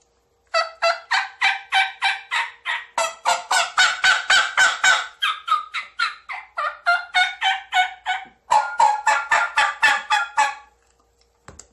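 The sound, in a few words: turkey mouth call imitating hens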